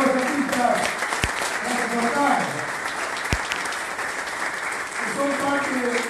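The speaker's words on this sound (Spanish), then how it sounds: "Un aplauso para todos los artistas." Applause for folk artists at a Cosquín festival press conference, continuous clapping from a modest room audience heard beneath voices and a few sharp knocks.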